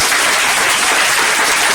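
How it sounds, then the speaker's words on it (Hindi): Loud, dense applause from people gathered at a youth village panchayat gram sabha meeting, a continuous close wash of clapping with no break. "सभी के लिए अपने लिए जोरदार तालियां"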